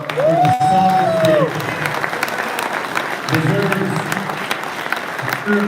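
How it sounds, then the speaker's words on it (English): At a fishing national championship awards ceremony, a crowd claps and cheers loudly throughout, with a few whistles and shouts rising above the steady applause. "give this guy one more round of applause"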